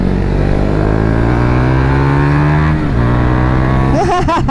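A Modenas ZX-25R motorcycle engine runs loud and close with strong harmonic tones, holding a steady pitch that dips briefly before several sharp, rapid revs near the end.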